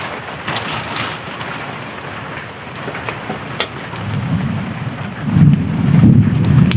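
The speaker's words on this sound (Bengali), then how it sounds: "এখন বাইরে অনেক বৃষ্টি হইতেছে হালকা হালকা বৃষ্টি পড়তেছে" Rain falls outside with a steady patter on surfaces, and a low rumble swells in toward the end, with no one speaking.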